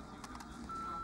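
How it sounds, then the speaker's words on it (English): A voicemail beep sounds after a greeting, a single clear steady electronic tone rising out of faint background noise and holding to the end. "Please leave a message after the beep."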